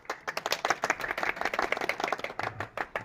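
Hearty clapping from a village crowd at an honour ceremony for a rural development officer in Rajasthan, dense irregular claps close by and sustained for the whole stretch without talk.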